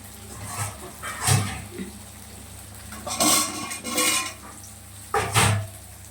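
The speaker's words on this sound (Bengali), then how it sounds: "আলুগুলো বেশ লাল লাল করে ভেজে নেব।" Potatoes fry in oil in a wok, with a few bright metal clanks and scrapes of stirring over a soft, steady sizzle, heard close up with no talking.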